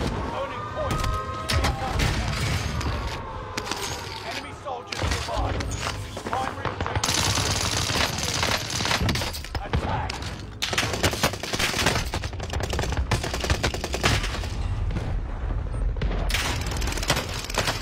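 Rapid video game gunfire rattles in automatic bursts, mixed with single shots and booms at a steady, fairly loud level, and a voice can be faintly heard at times.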